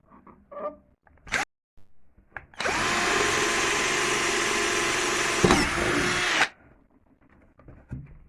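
A power drill fitted with a bit bores a hole in the top corner of a homemade power supply enclosure for a switch. One steady, loud whining burst lasts about four seconds and stops abruptly, with faint handling noises before and after.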